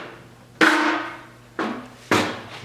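Hammer blows on a welded steel flange of a 1974 Triumph TR6 rear valance, being stretched: three sharp, ringing metallic strikes close up, each with a short fading ring, with no talk.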